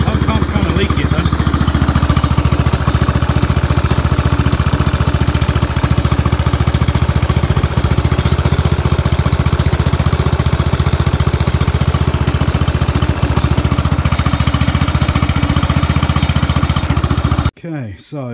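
A Kingcat 16HP ride-on lawn mower engine runs steadily and loudly close by for about seventeen seconds with a constant droning rumble, then cuts off abruptly near the end.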